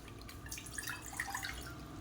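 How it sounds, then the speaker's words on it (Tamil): Two tumblers of water poured into a saucepan in a home kitchen, a faint, short run of trickling and dripping splashes at close range, with no talking. "இதில் வந்து ரெண்டு டம்ளர் இருக்குது தண்ணி ஊற்றிக்கலாம்"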